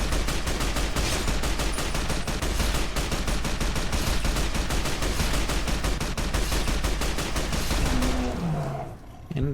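All-American rifle in Fallout: New Vegas firing hand-loaded rounds, a long steady string of rapid loud shots for about nine seconds that stops abruptly, close and dense with no pauses.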